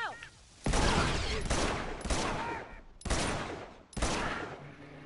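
Pistol gunfire in the Uncharted video game, several loud sharp shots each with a ringing tail in an uneven rhythm, with faint game sounds between.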